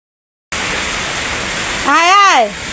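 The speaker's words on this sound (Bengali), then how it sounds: "বৃষ্টি নেমে গেছে গা বৃষ্টি" Rain pouring during a storm near banana plants, a steady dense hiss that starts abruptly after a moment of silence, with a voice briefly heard near the end.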